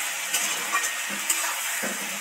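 Vegetables tossed with salt, chili and turmeric powder in a hot pan give off a steady close sizzle, with scraping stirs rising over the hiss in a few short bursts.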